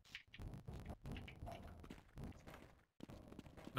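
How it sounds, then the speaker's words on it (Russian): Footsteps of players running across a roof on the de_nuke map in Counter-Strike: a quiet, irregular patter of steps that pauses briefly before resuming. "звуки как будто бы на крыше бегают"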